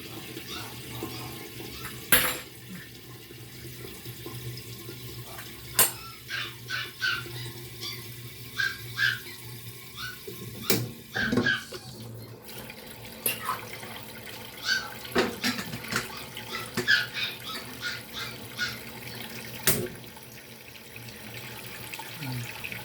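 Tap water runs into a sink while dishes clink and clatter intermittently, sharp knocks and scrapes of crockery nearby over the steady flow.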